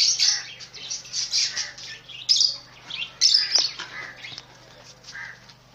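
Budgerigar parrots in a breeding pair's enclosure chirp and chatter in bright, rapid bursts, several birds calling close by over a faint steady hum.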